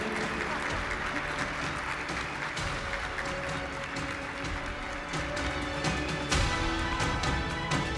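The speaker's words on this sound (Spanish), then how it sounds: "Fuerte aplauso y reconocimiento por la persona que las crió." An awards gala crowd gives sustained applause, a dense, fairly distant clapping texture that continues throughout and swells briefly near the end, with some faint voices mixed in.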